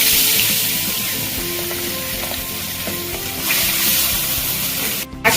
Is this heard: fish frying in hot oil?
yes